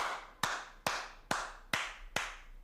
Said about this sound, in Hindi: ताली 5 बार।